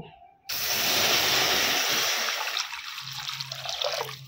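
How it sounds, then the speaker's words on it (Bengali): Water pours steadily into a kadai (wok) in a home kitchen, a loud continuous splashing rush that tapers into trickles and drips. "কড়া বসিয়ে দিয়েছি, কড়াতে জল দিয়ে দিব।"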